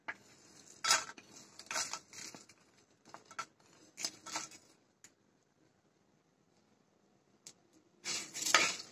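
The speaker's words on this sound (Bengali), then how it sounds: "একে একে আমি সবগুলো দিয়ে মশলাগুলো ভেজে নেব।" Whole spices dry-roasted for a plum pickle, stirred in a pan with clustered scrapes and clinks of a utensil against metal in short bursts separated by quiet gaps, then a final louder flurry.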